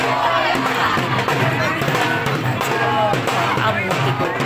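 Dense crowd noise at a Ganesh Chaturthi idol immersion procession, a continuous loud wash of many voices with shouts and cheers rising throughout.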